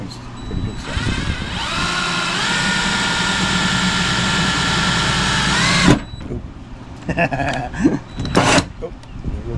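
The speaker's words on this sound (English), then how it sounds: "First fender hole drill is traumatizing." A loud electric drill whines steadily for several seconds boring a fender hole in a Mitsubishi Pajero, then stops abruptly, followed by clattering handling noises and brief bursts.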